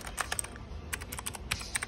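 Rapid keystrokes on a mechanical PC keyboard, arriving in short uneven bursts of crisp clicks, close and fairly quiet, with no voices.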